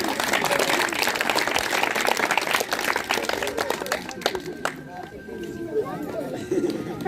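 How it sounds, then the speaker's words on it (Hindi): Audience applause at a school farewell ceremony for a principal, dense and steady at moderate distance, with crowd chatter and voices mixed in and thinning toward the end. "जोरदार ताली महेंद्र सर की।"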